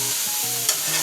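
Collard greens sizzling steadily as they cook down in a skillet, a close, loud, continuous hiss with faint stirring, no voices.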